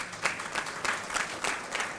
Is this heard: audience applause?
yes